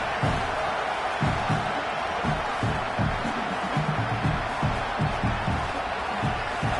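Home stadium crowd in a college football video game, a steady broadband roar of fans that stays loud throughout, with rhythmic low thumps and a murmur that sounds like voices mixed into the crowd.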